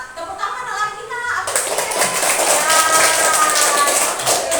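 Schoolchildren in a Palembang classroom clap their hands together, a loud, dense burst of applause that starts abruptly after a moment of voices and carries on to the end.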